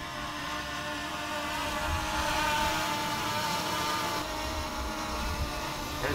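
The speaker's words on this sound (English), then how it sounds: "So first thoughts about this drone is that yes, it is stupid fun to use." Small camera drone whirring steadily in flight outdoors on a windy day, a continuous buzzing hum with wind noise, fairly close and constant throughout without talk.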